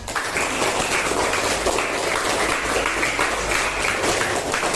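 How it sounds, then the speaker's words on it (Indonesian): A sixth-grade class applauds in a classroom, a continuous wash of many hands clapping at moderate loudness throughout without any talk. "tepuk tangan."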